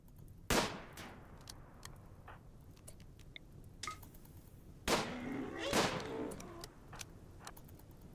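Gunfire in the video game Rimworld, several sharp separate shots spaced irregularly over quiet background, a couple of them followed by short rattling tails.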